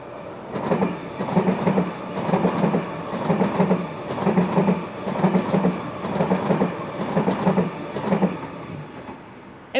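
A Sydney Waratah A-set electric passenger train passes close by at MacDonaldtown, its wheels beating out a steady, repeating clickety-clack rhythm over the rails throughout, loud and without voices.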